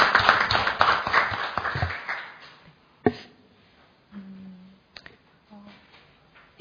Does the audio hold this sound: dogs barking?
no